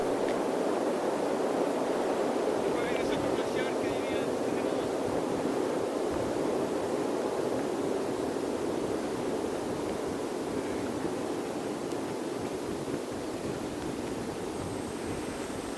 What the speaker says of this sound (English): Very windy this morning.